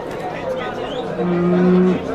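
A cow at the Shohidon cattle bazaar gives a long, steady moo lasting under a second, rising out of the busy market murmur behind it.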